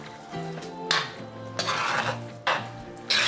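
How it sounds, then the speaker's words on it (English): Drained noodles being stirred into a shrimp and egg mixture for spicy shrimp pad thai, with close scraping and clinking of a utensil against the pan in a few distinct strokes and a faint sizzle underneath. "we're supposed to stir the drained noodles into the shrimp and egg mixture"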